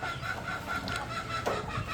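Native hen chicks on a small farm, soft clucking and peeping close by, continuous and low in level, with a faint murmur of background noise.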